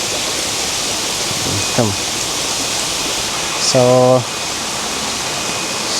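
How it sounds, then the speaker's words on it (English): Pumps pushing water through the sumps of a Zambian fish hatchery make a steady, broad rushing hiss throughout, with a short rising electronic chirp and a brief tonal beep over it and a single spoken word. "This is where the pumps are, which pump water to the tanks."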